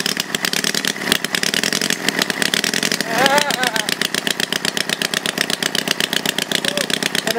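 A homemade twin-cylinder engine built from Briggs engines running with both cylinders firing, a rapid, steady staccato putter close by, with excited voices talking over it partway through.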